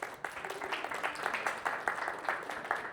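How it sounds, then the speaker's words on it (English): An audience at a wellness expo talk gives a round of applause, a steady wash of many hands clapping at moderate distance for the full stretch, fairly soft and even, with no voices standing out. "Give her a round of applause."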